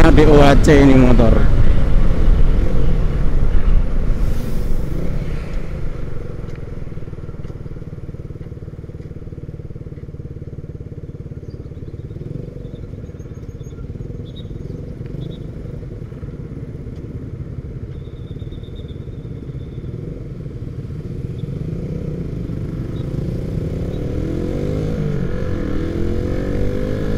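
A 2009 Suzuki Satria FU motorcycle with a DOHC engine being ridden, a loud close engine drone that holds steady and rises again near the end, with someone talking over it.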